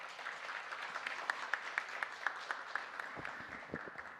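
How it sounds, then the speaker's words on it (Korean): An audience at a Korean film policy forum applauds the staff and researchers, with a short burst of light, fairly distant clapping and a few distinct louder claps standing out before it fades. "스태프분들, 연구원분들에 대해서 박수 한번 영화인들이 박수 한번 쳐주십시오."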